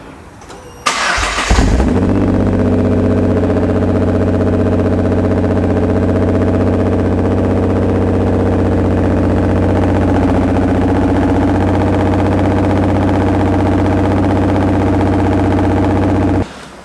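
A Nissan R35 GTR engine cranks and fires, then settles into a loud, steady but rough-running idle that carries on alone for about fifteen seconds before cutting off.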